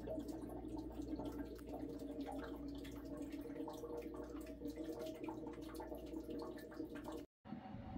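Water and trapped air sputter from a household faucet while a water heater is being drained, a steady rushing hiss with uneven gurgles, ending in a brief moment of silence.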